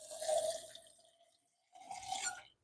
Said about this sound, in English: I'm gonna drain my cashews, which I soaked earlier.